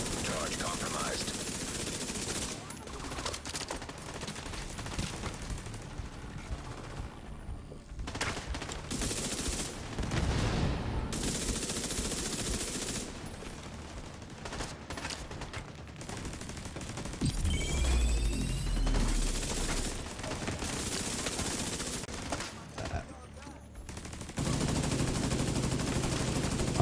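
Rapid bursts of Backfire submachine gun fire in The Division 2 ring out repeatedly, loud sustained automatic volleys broken by short pauses, with other game effects mixed in.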